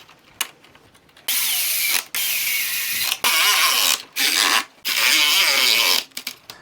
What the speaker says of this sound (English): It is now time to put all the screws back in to hold this.